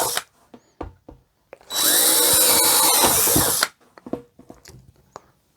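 Power drill boring a drainage hole in a plastic flower pot, a close, loud whirring burst of about two seconds set between soft handling knocks and clicks.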